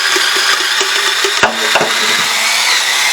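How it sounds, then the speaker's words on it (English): A small dish scrubber twirls inside and around a cup during dishwashing, producing a loud, continuous close rough scrubbing with a few knocks and squeaks. "That little scrubber fits right up in that corner. And I just twirl it around, and then I just go around the cup on the inside."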